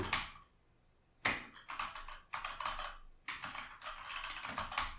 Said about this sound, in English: let's type a command